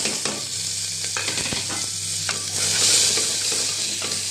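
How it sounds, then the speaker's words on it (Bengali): Finely chopped onion fries in a hot pan, a close, steady sizzle broken by repeated scraping and stirring clatter, with no talking. "দেখুন পেঁয়াজটা আমার লাল করে ভাজা হয়ে গেছে।"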